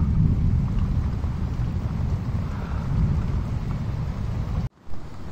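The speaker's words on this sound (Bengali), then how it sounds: "এইবার বৃষ্টি নামছে" Rain begins falling with thunder, a steady, dense low roar and rumble that fills the whole stretch and briefly cuts out near the end, with no voices.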